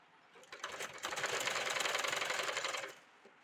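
A sewing machine stitches the sleeve of a V-shape frock in one close, continuous run of rapid needle clatter that builds up, holds steady for about two seconds, then winds down.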